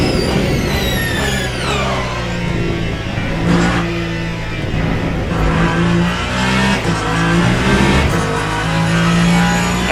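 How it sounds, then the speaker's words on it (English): BMW race car engine revving hard in Le Mans Ultimate, a loud, sustained high-pitched engine scream rising and falling through gear changes for about ten seconds, close up without talk. "That BMW sounds so good."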